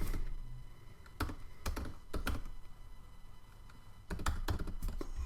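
Fingers typing credit card details on a computer keyboard, a quiet, close patter of irregular key clicks in short bursts with brief pauses between them.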